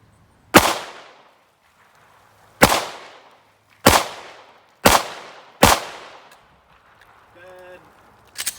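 A Taurus TH9c 9mm pistol fires five sharp, loud shots at uneven intervals outdoors, each ringing out briefly, followed by a faint clink and one more report at the end.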